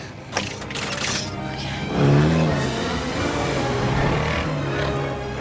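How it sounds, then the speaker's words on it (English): A Ford Anglia enchanted flying car from a Harry Potter film, its engine droning steadily and swelling into a louder, rising rev about two seconds in before settling back to a sustained hum. "Harry and Ron miss the train to Hogwarts, they use the enchanted car to get to school, and promptly crashed it into the Whomping Willow"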